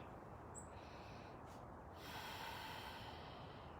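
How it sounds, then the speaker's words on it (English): A single slow, deep breath in taken during a calming voice exercise, a faint, steady airy rush that swells slightly toward the end, heard alone with no talking. "And then take a nice deep breath in."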